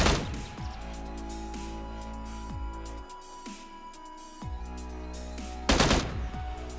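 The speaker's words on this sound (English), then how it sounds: "when shooting a weapon at low FPS, you can easily hear that the weapon shoots slower" A weapon fires at low frame rate in PUBG, sounding as bursts of loud, rapid gunshots with slightly uneven spacing, broken by brief pauses, then a final heavy burst.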